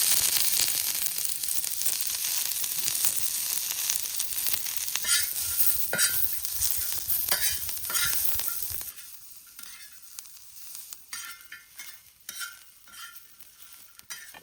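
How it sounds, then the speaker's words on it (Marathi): Onion and grated coconut roasting in oil in a pan for a rohu fish curry, loud continuous sizzling and frying with stirring scrapes, fading to quieter intermittent sizzles and scrapes toward the end. "कांदा खोबरं भाजून घेतो तेल टाकतो"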